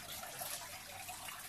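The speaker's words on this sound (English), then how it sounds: "can you see how the water is cascading?" Water cascading down through hanging Spanish moss (Tillandsia usneoides), a faint, steady trickling hiss with no break, quiet and even throughout.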